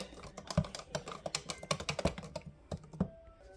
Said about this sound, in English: I'm going to whisk this until it's nice and smooth